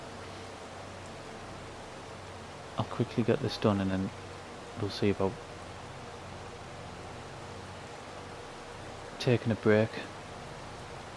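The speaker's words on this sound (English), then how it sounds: "Oh my god, it started raining." Steady rain falls in the video game Farming Simulator 22, a soft even hiss running throughout beneath someone talking in short bursts.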